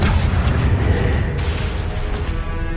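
Confringo blasting spell in the game Hogwarts Legacy, a loud deep boom with rumbling burst that fades over a dense low roar.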